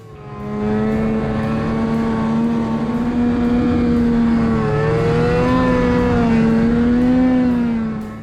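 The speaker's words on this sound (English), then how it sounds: "Taiwanese snowmobilers communicate through their engines" Snowmobile engines revving in Taiwan, a loud sustained engine drone with rising and falling pitch, close and continuous for several seconds, with no talk.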